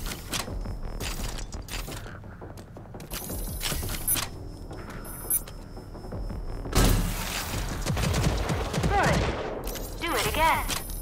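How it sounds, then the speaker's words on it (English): A smart rocket launcher in the shooter game Rage 2 fires volleys of small homing rockets, sounding as dense, rapid bursts of whooshes and explosions with mechanical clicks and electronic tones. It grows louder and more chaotic toward the end. "Rocket launcher can lock onto a target and fire multiple small homing rockets."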